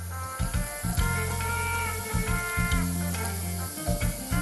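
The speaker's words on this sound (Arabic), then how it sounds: "صار الوقت إني أحط البصل." Chopped onion hits hot oil in a pan for vegetable sambusak, setting off a steady, close hiss and crackle of frying that rises and falls with stirring.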